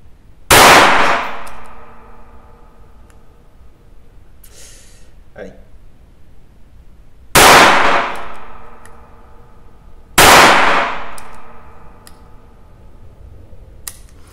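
Three sharp gunshots from a Remington Elliot derringer firing .22 Short, loud and close, spaced several seconds apart, each with a brief ringing tail, plus a faint metallic handling click between them.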